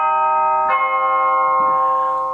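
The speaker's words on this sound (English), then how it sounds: "I use the Tubular Bells, which you hit with a hammer actually." Tubular bells struck with a hammer ring out in two strikes, each a bright metallic clang with long sustained church-like harmonics that overlap and slowly fade, close and clear with no voices.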